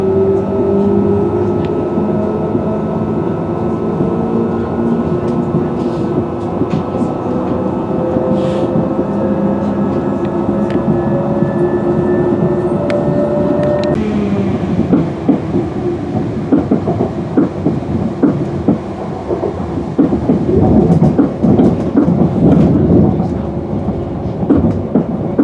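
Interior of a moving Northern train bound for Leeds: a steady loud rumble with rail clatter, growing rougher and more rhythmic partway through, with a faint tone in the background.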